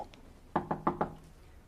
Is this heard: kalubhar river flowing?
no